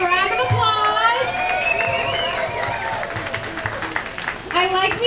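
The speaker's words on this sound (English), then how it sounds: "Let's give a round of applause." Crowd applause at a crawfish boil in Dallas, with scattered cheers and children's voices mixed in, a lively, continuous burst of clapping filling the room.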